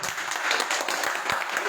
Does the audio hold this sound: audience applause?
yes